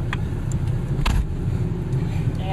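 Steady low road rumble and engine drone fill the interior of a moving car, with a brief louder bump partway through and people talking faintly over the noise.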